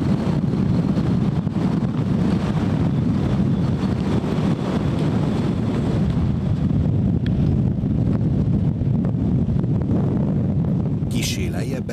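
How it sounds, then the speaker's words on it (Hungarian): Strong, steady wind roars and buffets the microphone on a mountain peak in the Kojsói havasok, a constant rumbling gust with no pauses. "kegyetlen viharos szél fogad"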